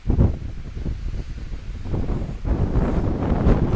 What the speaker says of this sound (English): Absolutely blowing a gale.